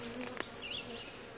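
A honeybee swarm drops into a hive, its dense buzzing close and steady, with a few individual bees whining past.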